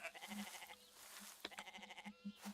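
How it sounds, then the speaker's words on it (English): Sheep in the farming video game Farmer's Life bleat in a few short, wavering calls, several overlapping in quick succession at moderate distance over a quiet background. "Those are sheep, Glen."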